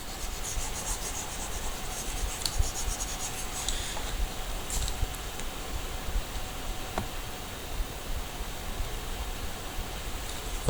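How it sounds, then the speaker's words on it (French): Continuous close scratching of writing on a board during a lesson on number systems, with short strokes and small taps layered into a steady rasp and no speech. "Donc je vais écrire ici."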